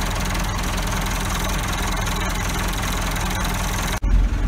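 A 1977 Massey Ferguson 575 Multipower tractor engine idles close by, a steady low diesel rumble with a faint knock, broken by a brief dip near the end.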